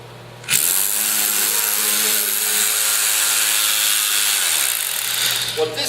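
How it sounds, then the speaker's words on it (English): A hammer drill on hammer setting hammers continuously for several seconds while setting a Wedge King concrete anchor, loud and close, with a harsh rattling buzz that starts abruptly and cuts off near the end. "you place the anchor inside the hammer drill and leaving the hammer drill on the hammer drill setting"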